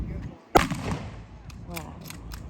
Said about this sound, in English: These Mosen blanks are really loud, so be ready.